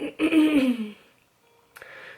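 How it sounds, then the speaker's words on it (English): A single rough, gravelly throat clearing up close, trailing off into silence before a soft breath. "Sorry that I'm like always clearing my throat."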